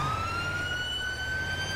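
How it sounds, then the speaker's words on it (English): A continuous wailing ambulance siren in the video game GTA 5, heard alone at steady volume with a rising, sweeping tone. "I tried to hit my siren"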